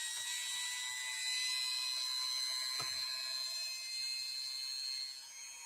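A Singer Centennial Class 15 sewing machine runs on its motor, producing a thin, steady high-pitched whine with faint mechanical ticking and one brief knock partway through, heard alone at low level.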